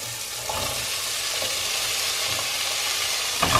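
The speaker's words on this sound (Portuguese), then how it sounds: "já deu uma fritadinha aqui no bacon e na linguiça, tá vendo?" Chopped bacon and sausage fry in a pan without added fat, giving a steady dense sizzle with soft crackles and a few stirring scrapes, close and continuous with no talk.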